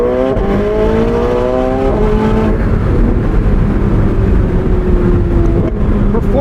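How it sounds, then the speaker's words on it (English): A loud, close engine roars continuously from inside a 2024 McLaren 750S, its pitch stepping up and down through quick downshifts toward redline with a rough, rumbling tone. "We can downshift right up to red line in the 750S now."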